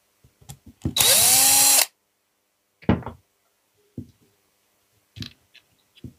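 Power screwdriver unscrewing a screw on a Traxxas X-Maxx 8S belted RC car, one loud whirring burst of just under a second, followed by scattered clicks and handling taps of tools and plastic parts.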